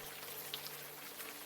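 Rain falling outdoors in the game Unavowed, a soft, faint continuous patter with a few light drop ticks and a low steady hum beneath, no voices.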